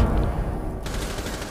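Automatic gunfire from the video game Rainbow Six Siege, a loud, continuous spray of rapid shots that rattles on without pause through the whole moment.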